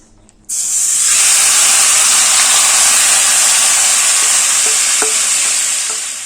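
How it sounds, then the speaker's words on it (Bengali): Marinated mutton hits hot oil in a pan with a sudden loud sizzle that holds steady as a bright, continuous hiss, with a few faint clinks near the end. "এবার ম্যারিনেট করে রাখা মাংসটা তেলে দিয়ে দিচ্ছি"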